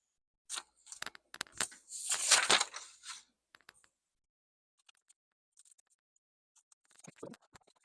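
Leather being cut into pieces for an eyeglass case, heard as a dense burst of close scratchy cutting and rasping, followed by sparse faint clicks and scrapes and a short scuffing flurry near the end.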